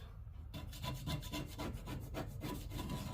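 Old paint being scraped off a Toro Timecutter Z5000 zero-turn mower blade, heard as a steady run of close, rhythmic rasping strokes repeating about every quarter second with no talk.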